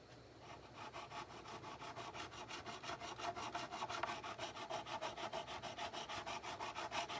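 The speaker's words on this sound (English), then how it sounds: "as I get farther down the fretboard here, I won't have to sand or file as much" Frets on an American Telecaster Custom Shop fretboard being sanded and filed: steady, rhythmic rasping strokes up close, repeating evenly throughout with no talking.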